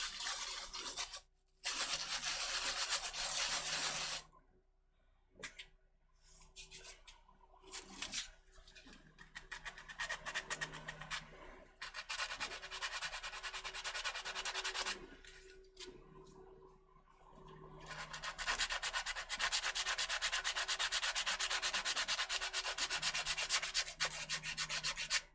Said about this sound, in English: The scratching sound from the sandpaper.